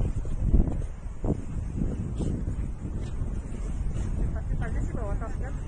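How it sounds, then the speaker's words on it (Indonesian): Wind gusts across the microphone on an island, a low rumbling buffet that persists throughout, while people talk over it and some higher vocal sounds come through near the end. "Bukan sejuk tapi berangin."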